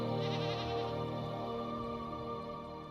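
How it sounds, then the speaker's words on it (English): A goat bleats in the video game Morrowind, a wavering, harmonic call in the first second that trails into a sustained droning tone over steady game ambience, with no talking. "It is a goat, and it is strange."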